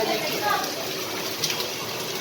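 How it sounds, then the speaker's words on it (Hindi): Torrential storm rain in Karachi makes a steady, loud, hissing downpour near a house, with brief splashy surges and someone speaking over the roar. "बहुत शदीद बारिश है भाई।"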